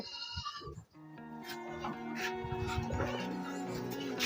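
Goats on a goat farm bleat close by in a run of drawn-out, wavering calls that overlap one another, with background farm noise.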